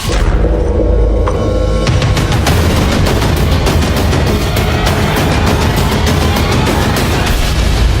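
Anti-aircraft guns aboard the heavy cruiser USS Salem fire in a loud, continuous barrage: dense, overlapping reports and booming blasts pound steadily throughout, with no voices over the din.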